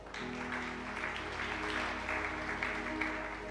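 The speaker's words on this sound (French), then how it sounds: "Acclamons pour le Saint-Esprit" A church congregation applauds during a prophetic service, sustained clapping over a droning background of organ or keyboard chords, with no distinct cheering.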